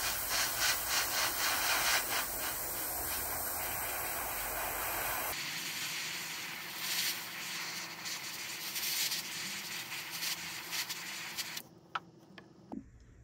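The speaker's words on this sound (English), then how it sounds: "I've just filled my airbrush up with a little Ammo by MIG paint" An airbrush sprays Ammo by MIG acrylic paint over a model, a continuous airy hiss with a faint scraping texture, changing tone partway through and cutting off near the end before a few small clicks.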